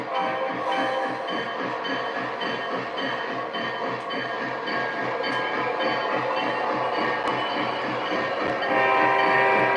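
A model steam locomotive, number 765, chugs along slowly with a steady rhythmic puffing beat and faint clicks, continuous and close, without talk.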